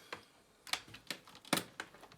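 Keyboard being pried and lifted out of a Toshiba C850D laptop during disassembly, giving several sharp plastic clicks and snaps spaced irregularly, close and fairly quiet with no talking.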